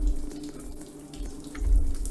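A faucet left on in the Roblox horror game The Cursed gushes steadily into a basin, a close, continuous splashing flow that swells louder toward the end, with no speech.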